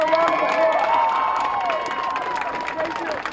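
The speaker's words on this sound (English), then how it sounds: "Give her a round of applause." A crowd at a peace rally in the city of Lawrence applauds and cheers, with clapping mixed with raised voices and shouts in a loud, lively swell that eases off over a few seconds.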